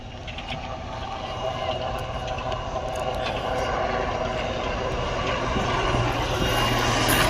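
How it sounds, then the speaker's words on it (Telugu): A helicopter at a Navy Day display gives a steady, loud engine and rotor roar that builds gradually and holds throughout, with faint background voices beneath it. "చూడండి, హెలికాప్టర్ వస్తుంది."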